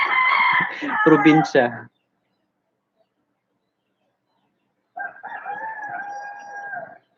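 A rooster crows nearby at a home in Iloilo, its call coming after a burst of speech and standing alone with no talk over it.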